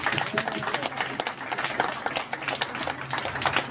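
A crowd applauds with dense, rapid clapping that carries on steadily, moderately distant, with a voice faintly audible underneath.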